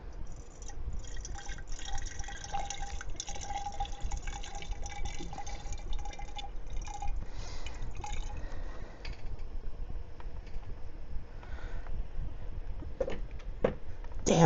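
Water poured from a bottle fills a glass bong, trickling and dripping in uneven bursts over a low background rumble, fairly close, with no talking.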